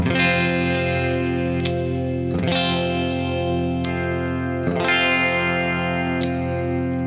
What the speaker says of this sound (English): I'm simply just going to play one chord and go between the pickups so you can hear the different voicing